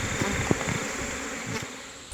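Close bees buzz with a steady high drone, a few faint knocks underneath, no voices.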